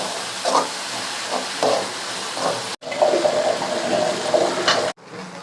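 Ginger garlic paste sautéing in a pan for quail gravy, a loud continuous sizzling hiss broken by two brief pauses, with stirring noise and no voices.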